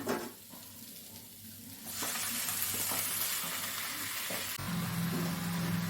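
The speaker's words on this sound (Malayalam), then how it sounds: "ഇനി നമുക്ക് അതിലേക്ക് ചിക്കൻ ഇട്ട് കൊടുക്കാം" Chicken goes into a pan of fried onions for chicken vindaloo, starting a loud steady sizzle after a short quieter stretch, with stirring scrapes.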